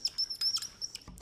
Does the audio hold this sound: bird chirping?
yes